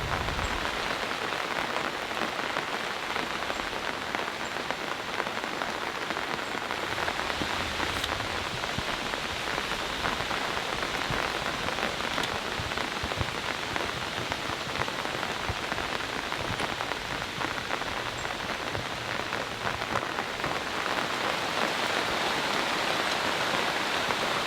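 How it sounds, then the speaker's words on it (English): Steady, moderate rain patters on an Australian tent while storm camping, a dense unbroken hiss of drops striking the fabric close by for the whole stretch, with no voices. "It's raining, not terribly hard, enough to soak everything again."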